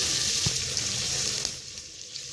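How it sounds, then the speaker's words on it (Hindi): Onions sizzle and crackle steadily in a hot pan while being fried for aloo keema, a close, continuous frying hiss with a few soft knocks and no talking. "प्याज हम अपनी फ्राई कर रहे हैं।"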